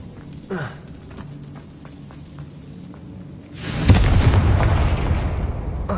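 Confringo blasting spell in the Hogwarts Legacy game, a loud explosive boom with a long rumbling roar of debris that follows a quieter stretch of game ambience and a brief whoosh.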